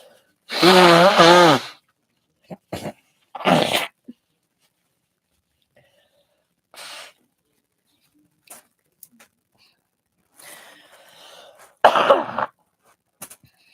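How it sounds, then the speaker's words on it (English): Several short, loud bursts of nose-blowing and snorting sound up close, separated by quiet pauses and a few faint rustles. "I'm going to blow my nose."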